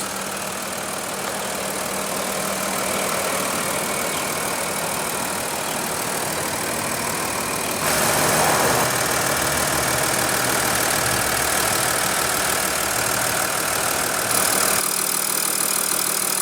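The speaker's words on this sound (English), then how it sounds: "under the hood here we have the carried over 3-liter turbo diesel V6 engine" A 2016 Audi A6 with a 3.0-liter turbo diesel V6 idles steadily in a low, even clatter, loud and close, with a shift to a brighter, heavier tone partway through and no talking.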